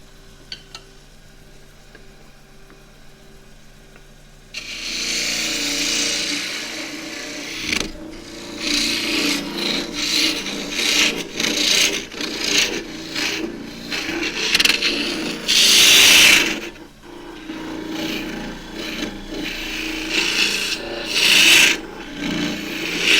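A spindle gouge cuts into a spinning endgrain wood box on a lathe, hollowing it out with a steady, loud rasping scrape over a low motor hum, the pitch and intensity surging as the tool bites.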